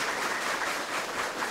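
Audience applause at a lecture hall, a steady dense wash of clapping that stays even and fairly loud throughout with no voices over it.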